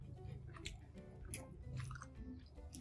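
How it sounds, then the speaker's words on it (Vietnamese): Close, quiet chewing of boiled pork in a mukbang, soft wet bites and squishy mastication repeating in an uneven rhythm with no talking. "Mình ăn thử không một miếng thịt luộc nha."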